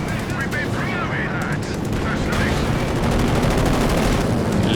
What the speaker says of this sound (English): Bringing in the strafe.